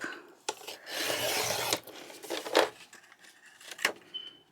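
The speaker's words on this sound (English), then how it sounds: "I think I need to trim the edge again." A blade trims the edge of scrapbook paper with rasping, scraping strokes: one long sustained rasp, then several sharp short scrapes and slices close by, with no talking.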